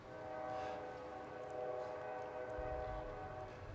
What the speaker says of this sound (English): I guess maybe that train's across the river.